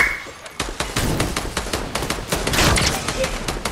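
Rapid automatic gunfire in the video game Fortnite rattles in dense bursts up close, with a voice talking over the shots.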